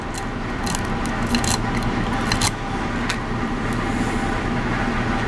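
A pick rakes a Medeco lock, producing a steady close scraping and rattling texture with occasional sharper metallic clicks, continuous throughout without speech.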